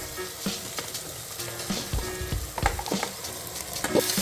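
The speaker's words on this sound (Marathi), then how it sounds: "मटण आपल्याला फुल गॅसवरती छान असा परतत राहायचं आहे" Mutton pieces stir-fried on full flame in softened onion-tomato masala for biryani, a strong close sizzle broken by repeated scraping and thudding stirs, no voices.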